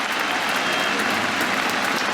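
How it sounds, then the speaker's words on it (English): Dense, continuous applause and cheering from a cricket crowd at the Oval as Alastair Cook, England's leading run scorer, reaches a century in his final Test match. "The crowd go berserk."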